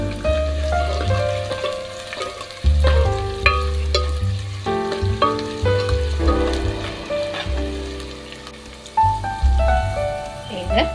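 Onions sizzle in hot oil for a sambar tempering with curry leaves, a steady close frying hiss that continues under louder melodic background music.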